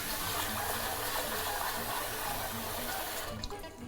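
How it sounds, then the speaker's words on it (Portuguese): Water pours steadily into a bowl of rice being rinsed for a vegetarian poke, a loud continuous splashing gush that tapers off near the end, with no voices. "a gente coloca a água de novo"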